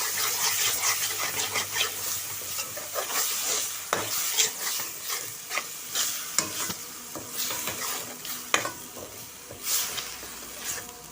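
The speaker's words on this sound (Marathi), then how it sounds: "त्याच्यावरती हे मालवणी वाटप टाकते, व्यवस्थित परतून घेते." Malvani masala paste sizzles and fries in a pan while being stirred, with crackling sizzle and repeated scraping stir strokes, close and fairly quiet, no talking.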